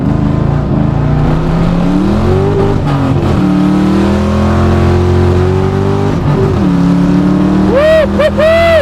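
A Lincoln Aviator fitted with a swapped Mustang GT V8 pulls hard under acceleration, its loud close engine note climbing through gear changes, with a whooping voice near the end.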